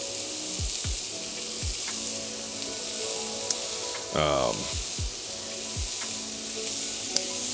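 Meat sautéing in a crowded pan for a chopped cheese sandwich, a steady broadband sizzle running throughout with a few scraping stirs and low thumps, plus a brief louder clatter near the middle.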